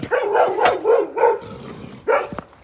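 A dog barks several times in quick, uneven bursts, fairly close and loud, with a short pause before one last bark.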